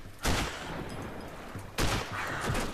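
Sniper rifle fire in a tactical shooter game, two sharp loud gunshot cracks about one and a half seconds apart over a steady noisy background of battle ambience.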